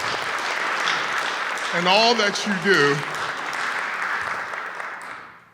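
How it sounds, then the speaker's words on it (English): A lecture-hall audience applauds a university honoree with steady broadband clapping throughout, while a voice speaks over it in the middle before the applause tapers off at the end. "A round of applause for Matthew"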